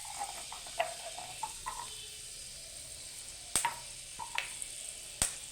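Whole cardamom and cinnamon spices hitting hot oil for tempering, giving a steady, soft sizzle close by, broken by a few sharp pops and crackles.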